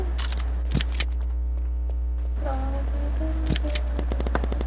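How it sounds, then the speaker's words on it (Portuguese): Bursts of video game gunfire from a player shooting upward, with sharp broadband cracks clustered near the start and a rapid run of shots at the end, over a steady low hum and a tonal game background. "você tem um cara muito aleatório atirando pra cima"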